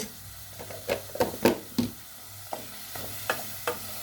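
Onions cooked in homemade butter in a pot are stirred with a spoon, giving a quiet bubbling simmer broken by several sharp scraping and clinking strokes at an uneven pace.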